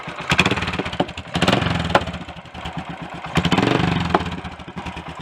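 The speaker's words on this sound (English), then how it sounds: "the exhaust note sounds much better now it's not blowing" A Royal Enfield 535 GT motorcycle runs close by with a rhythmic, throbbing exhaust note, no longer blowing, revving up briefly twice over a steady idle pulse.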